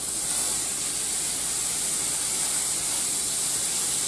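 Meat hitting a hot skillet and sizzling steadily, a loud, even hiss close by with no breaks and no talking.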